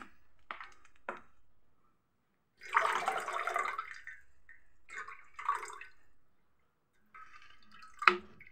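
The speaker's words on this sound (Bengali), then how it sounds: "অল্প করে জল মিক্সড করে দিয়ে দেবো এটাতে।" Water is added a little at a time to a mixture in a cooking pot and mixed in, heard as several separate close bursts of pouring and swishing with short silent gaps between them.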